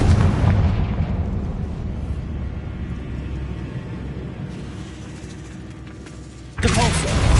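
A Confringo fire spell explodes in the video game Hogwarts Legacy with a loud booming blast that rolls off into a long, rumbling decay. A second sharp burst hits near the end.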